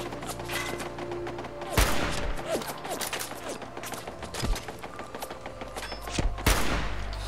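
Gunfire in the video game Fallout 4 comes as several sharp shots and bursts over a busy game soundscape, with a few heavier thuds.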